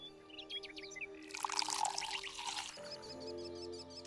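Water pours into a cup, a faint close trickle lasting a couple of seconds against quiet household background with some chirping.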